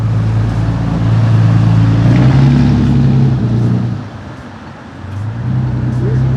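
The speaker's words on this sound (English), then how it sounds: "Busy street." Cars pass close by on a busy small-town street, their engine hum swelling and easing as vehicles go by, with a brief lull midway and a steady roadway drone underneath.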